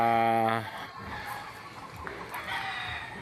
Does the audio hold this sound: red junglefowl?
yes